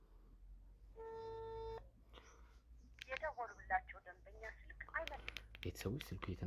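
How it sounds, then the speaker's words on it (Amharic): A single ringback tone sounds briefly on a telephone call that goes unanswered, followed by a person talking over faint background murmur. "ስልኩ እየተነሳ አይደለም። ቆይ ደግሜ እደውላለሁ።"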